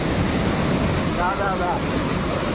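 Water rushes down a hillside at Ajodhya Hill in Purulia, a loud continuous roar mixed with wind buffeting the microphone, with a voice briefly heard partway through.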